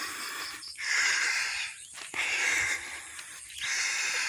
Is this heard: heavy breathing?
yes